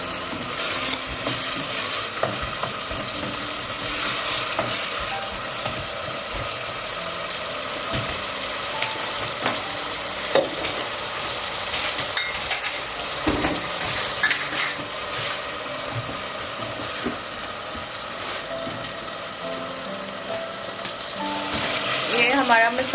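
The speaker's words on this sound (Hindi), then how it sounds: "अब हम इसको भुनने देंगे थोड़ी देर।" Spice masala sizzling and frying in a pan for a chicken recipe, a continuous hiss with occasional stirring clinks and scrapes, steady and close throughout.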